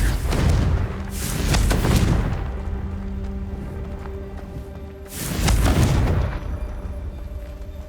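Confringo fire spell blasts in Hogwarts Legacy: two loud, booming explosions about five seconds apart, each a heavy broadband thump with a rumbling tail, and a steady low drone of game ambience between them.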